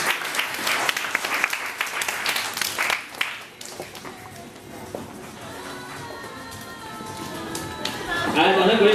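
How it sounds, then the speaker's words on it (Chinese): Crowd applause welcomes a bride entering at a wedding celebration, a dense burst of clapping for the first few seconds that fades under continuing chatter and room noise, with speech heard throughout. "然后掌声欢迎新娘"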